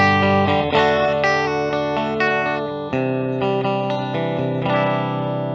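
Les Paul Artisan electric guitar with its humbuckers in the middle pickup position, playing a short run of ringing chords and notes with effects, loud and close and with no talking.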